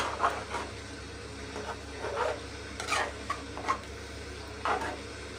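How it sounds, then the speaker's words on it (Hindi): A spoon stirs a fish and yogurt qorma mixture in ghee, giving soft intermittent scraping and rubbing strokes over a low background hum, with a faint sizzle. "अब हम इसको घी में अच्छे तरीके से मिक्स करेंगे।"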